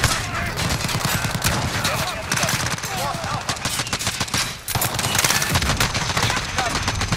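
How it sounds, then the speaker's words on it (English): Rapid, unbroken bursts of Uzi submachine gun fire in a video game, loud and close, dipping only briefly before resuming, with a voice talking over the shooting. "I'm about to use my Uzi"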